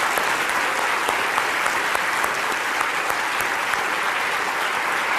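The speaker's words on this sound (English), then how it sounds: "give them a round of applause" A lecture audience at the Royal Institution Christmas Lectures breaks into a steady round of applause, a dense, even patter of many hands clapping at moderate volume throughout.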